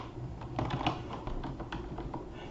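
Quick, continuous clicking of keys on a computer keyboard while someone edits an HTML file in Visual Studio Code, close and moderately quiet with no talking.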